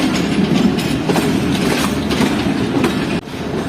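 Passenger train hauled by a GU40 diesel locomotive rolling in toward Karachi Cantt station, a steady close rumble of wheels and rail clatter with brief bursts of clicking over the joints, holding loud for nearly four seconds before a slight dip.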